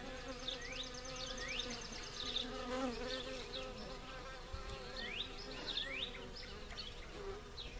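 Honey bees buzzing around an open top bar hive during an inspection, a dense, close hum with individual bees swooping past in rising and falling whines, no talk.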